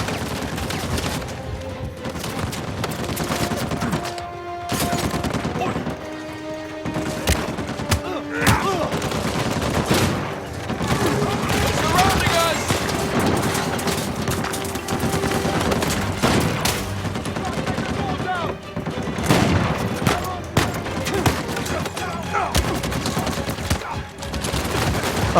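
Tank cannon and heavy gunfire in the Uncharted 4 video game, with dense continuous bursts, booms and fusillades filling the whole stretch, loud and close, with occasional game voices underneath.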